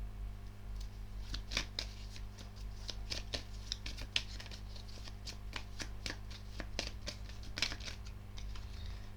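Oracle cards are shuffled close by in a quiet room, producing a steady run of soft, crisp riffling clicks and flutters with no talking.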